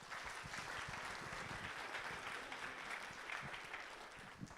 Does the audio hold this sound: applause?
yes